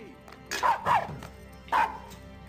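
A small puppy in the Disney animated short Feast gives three short, yappy barks close by: two in quick succession, then one more after a pause.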